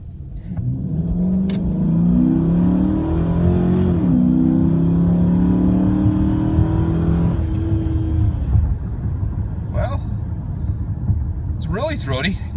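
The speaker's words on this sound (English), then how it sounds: "Really throaty, gives it a nice little growl, a lot of roar from the engine up front from that intake." A Dodge Charger with an Airaid cold air intake revs hard at wide open throttle, giving a loud, throaty growl. The engine pitch rises and falls through several sustained pulls, then drops to a lower rumble, with a few brief voices near the end.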